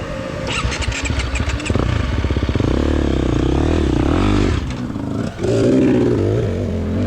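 A 2023 KTM 350 XC-F dirt bike being ridden in a scramble race, its engine loud and close, revving and rising in pitch with rapid exhaust pulses, briefly dropping off before picking up again.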